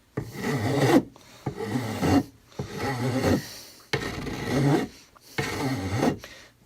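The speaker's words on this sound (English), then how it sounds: "with a file you're removing a lot of material at once" A hand file rasping against metal while fitting parts on a Lyman Great Plains Rifle build, five long even strokes of gritty scraping separated by short pauses, close and alone.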